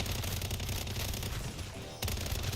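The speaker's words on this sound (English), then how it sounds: "Mortar strike." Mortar strike explosions pound in MW Zombies, a dense loud barrage of overlapping booms and blasts with a brief lull before another burst near the end.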